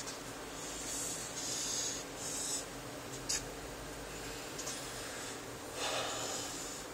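A marker draws economics graphs on a board in quiet surroundings, making faint, soft squeaky strokes in short bursts with a sharp tap partway through.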